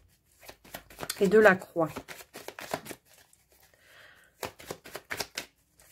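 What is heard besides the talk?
tarot card being laid down on another card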